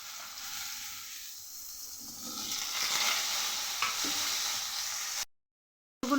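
Cut potatoes frying in a little oil with dry red chilli and nigella seeds, a steady broadband sizzle rising over a few seconds, close and moderately loud, ending in a brief silence before it resumes.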